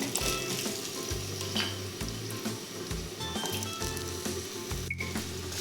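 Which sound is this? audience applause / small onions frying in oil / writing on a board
small onions frying in oil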